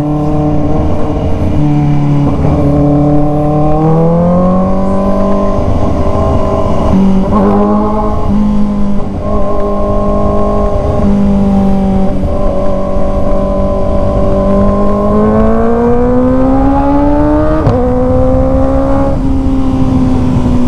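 A Kawasaki ZX-4RR sport motorcycle exhaust drones loudly and steadily for the whole stretch, its pitch rising and falling with repeated revs of the throttle, close by.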